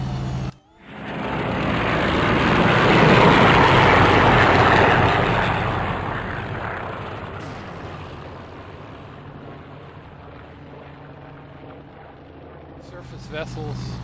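A propeller aircraft engine from the IL-2 1946 flight sim, climbing out after takeoff on a Sicily mission: a broad, steady roar that swells to a peak, then eases to a lower sustained drone.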